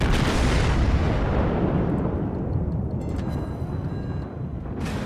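Battleship main guns roar and shells burst in a World of Warships naval battle, a dense continuous wash of heavy booms and rumbling blasts that stays loud throughout and eases slightly toward the end.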